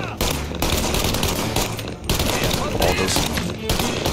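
Sustained automatic gunfire from Mafia: Definitive Edition empties a whole magazine in a loud, dense burst of rapid shots with brief pauses, while a man briefly exclaims over it.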